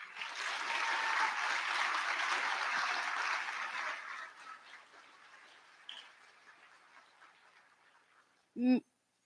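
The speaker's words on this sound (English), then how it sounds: "So I think they all deserve another round of applause." Clapping from the audience at a Grandparents Day and Year 1 school assembly, a fairly full burst that fades over several seconds into quiet, ending with a brief tonal sound.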